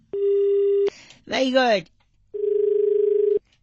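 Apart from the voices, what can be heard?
telephone tone after the call was cut off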